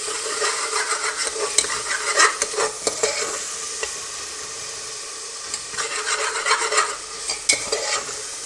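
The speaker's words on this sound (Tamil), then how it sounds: "இது நல்லா அந்த பேஸ்ட் வந்து பச்சை வாசம் போகிற வரைக்கும் நல்லா வதக்கணும்" Ginger, garlic and green chilli paste sautés in a pan, with a soft sizzle under bursts of brisk spatula stirring and scraping, up close.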